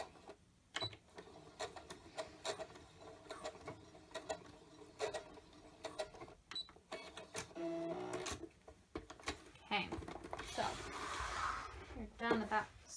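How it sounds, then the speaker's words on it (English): Sewing machine stitching elastic onto a dress, running in short bursts and a longer stretch near the end amid clicks and handling noise, with a person talking over it. "down to that sewing machine"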